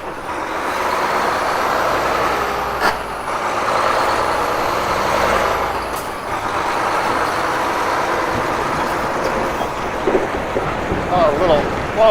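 A truck rolls past on a Toronto street near St. Clair, heard from a moving electric scooter, with a steady, loud roar of traffic and wind noise throughout and a brief hiss-like burst near the end.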